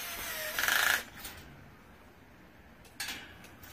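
Mini channel lock pliers tighten a screw on a bird cage during assembly, making a short burst of metallic scraping and clicking and then a second brief clatter a couple of seconds later, close and fairly quiet.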